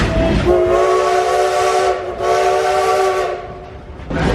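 A departing excursion train at Silver Dollar City theme park in Branson, Missouri blares its loud horn in long sustained blasts over rumbling rail noise, close by, pausing briefly between blows.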